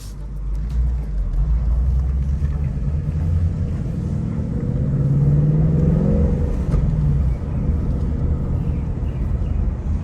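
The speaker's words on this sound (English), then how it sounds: "Factory exhaust sounds really nice. Not too loud, just really the perfect tone." The factory exhaust of a Ford Mustang GT 5.0L fastback idles and runs with a deep, steady low rumble that swells slightly in the middle, heard from nearby with no talking.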